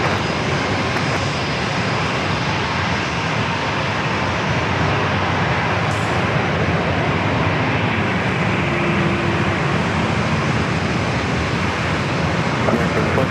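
An airliner takes off from San Diego airport, its jet engine roar broad, steady and loud from start to finish with no talk over it.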